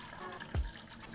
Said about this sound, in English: In the pot, we will add water